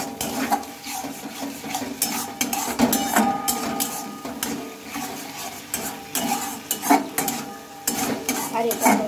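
A tomato sauce mixture stirred in a pan gives repeated scraping and clinking spoon-on-metal strokes in an uneven rhythm over a low sizzle, close up with no speech.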